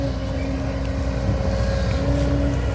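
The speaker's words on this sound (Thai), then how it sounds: "เครื่องยนต์ซีซู" A Kobelco SK200 excavator's Isuzu diesel engine idles steadily up close, a constant droning hum with a faint tonal whine and no pauses, while the machine stands parked with a bucket fitted for digging stumps.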